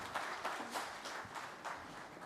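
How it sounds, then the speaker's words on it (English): Audience applause for speakers at a business event, a fairly faint, steady patter of clapping with a few louder bursts, lasting a couple of seconds. "Can we give them a huge round of applause?"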